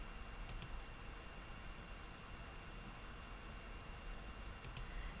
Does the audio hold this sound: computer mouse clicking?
yes